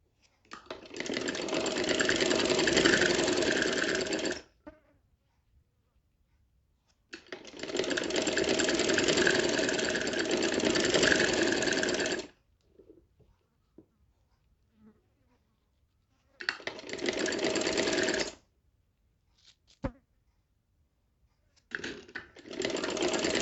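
Sewing machine stitching around the round yoke of a kurti, running in four bursts of rapid buzzing rattle separated by near-silent pauses, the first two long, the later ones shorter.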